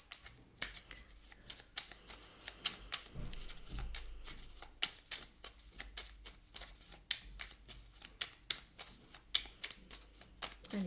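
Oracle cards shuffled and drawn by hand, a steady run of crisp riffling snaps and slaps close up, with short pauses between bursts and no talking.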